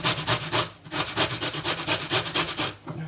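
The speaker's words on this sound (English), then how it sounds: "I really like it with a lot of ginger. So grating, and you will see it will be pretty small pieces." Fresh ginger is grated by hand for marmalade, a quick rhythmic rasping of about a dozen close, even strokes with no talking.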